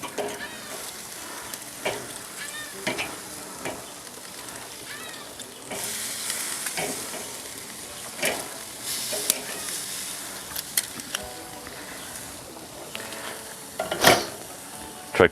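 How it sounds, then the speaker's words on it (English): Burgers sizzle and fry on a grill over high heat, a steady crackling hiss with occasional scrapes and clinks of a utensil, moderately close and mostly without talk. "Trick to flipping burgers on the grill."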